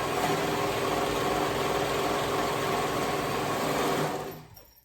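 A sewing machine runs a steady, fast zigzag stitch along a leggings seam, loud and continuous for about four seconds before winding down and stopping, with no talking.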